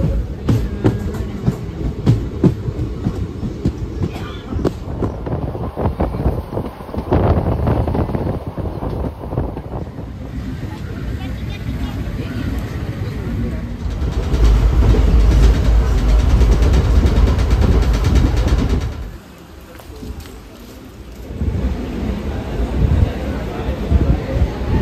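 A passenger train runs on rails toward Ramanathapuram near Rameswaram. A continuous close rumble and clatter mixes with gusts of wind buffeting the microphone and swells louder midway before dropping briefly.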